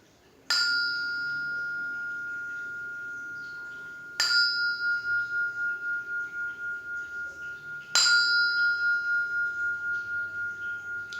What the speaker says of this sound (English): I'll sound the bell.